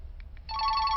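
A telephone rings with a bright electronic tone that starts sharply halfway through after two brief faint blips, then holds steady and fairly loud with no voices.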